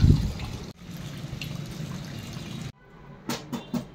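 Water runs steadily into a household tank with a soft, close trickling rush, then drops to a quieter dribble with a few small splashes or knocks near the end.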